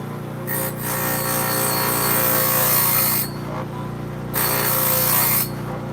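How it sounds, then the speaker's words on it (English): Bandsaw blades being sharpened with a power tool, a loud close rasping grind in long passes broken by brief pauses, no talk. "He's just sharpening some blades for the bandsaw."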